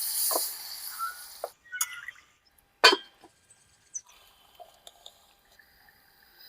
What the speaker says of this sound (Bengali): পরিমাণ মতন জল দিয়ে দেবো